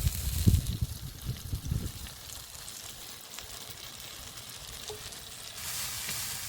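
Oil sizzles steadily in a pan as pabda fish fries, a continuous close hiss with a few louder crackling bursts at the start and rising again near the end.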